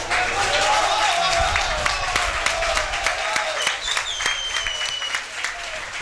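Spectators at a Fédérale 3 rugby match between JS Elne Latour Théza and SCA Rivesaltes Bompas applaud a player, with a sustained wash of crowd clapping and distant voices mixed beneath it.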